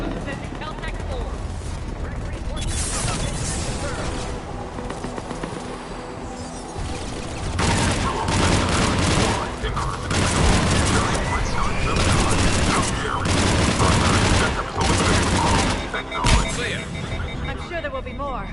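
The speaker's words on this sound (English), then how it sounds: "Taking enemy fire." Enemy gunfire in a PS4 video game comes in repeated bursts of automatic fire and heavy blasts, loud and dense, with voices talking over the combat.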